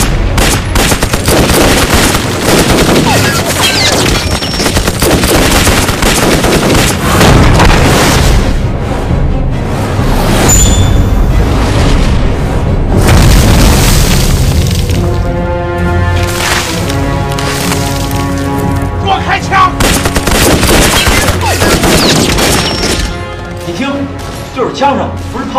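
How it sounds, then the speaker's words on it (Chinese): Loud cinematic gunfire and blasts in the 2016 film Mr Yin and Yang of the Last Fearless rattle in dense, sustained volleys, with shouting voices mixed into the din. "枪声不是炮声，从大帅府那边传来的"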